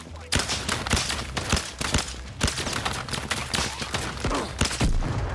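Rapid gunfire in the VR shooter Zero Caliber, dense bursts of loud shots cracking one after another with barely a pause, close and chaotic throughout.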